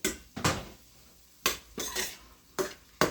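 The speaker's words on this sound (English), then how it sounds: "I'm going to add those mushrooms right into my pan and stir this up" Chopped mushrooms are stirred in a pan with a metal utensil, giving a few separate clanks and scrapes with quiet pauses between them, close by and fairly soft.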